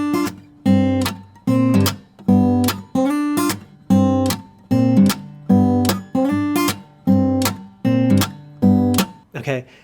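Guitar playing a groove variation with right-hand percussion, a repeating loping pattern of bright strummed chords and percussive slaps, loud and close with no voices.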